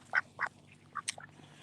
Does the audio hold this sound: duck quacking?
yes